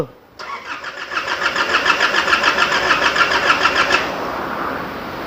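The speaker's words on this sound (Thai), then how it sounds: "ต่อไปก็จะทำการสตาร์ทเครื่องยนต์นะครับ" An Isuzu D-Max 4JK1 diesel pickup engine, with a leaking injector washer and clogged injector, cranks briefly, then catches and settles into a loud, steady, chugging idle that eases off near the end.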